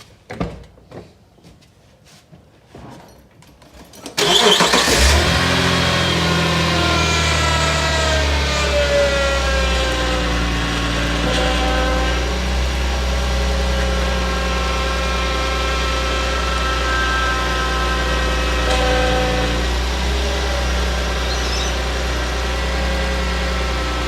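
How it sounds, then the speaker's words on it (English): A Subaru car engine cranks and catches a few seconds in, then settles into a loud, steady idle close by, with no talking. "I'll start the car up and I'll show you guys"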